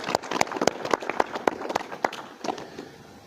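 An audience claps at a health talk in Firozpur, a burst of dense, irregular applause that stays fairly loud before thinning and fading toward the end.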